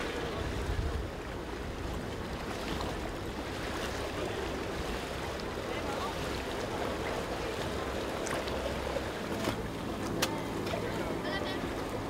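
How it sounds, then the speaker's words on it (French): Fishing and pleasure boat engines drone over lapping water as boats set off along a channel at Cayeux-sur-Mer, a steady low hum with splashes and occasional distant voices and higher tones near the end. "Tous les bateaux cailleulais s'élancent dans le chenal d'un même élan."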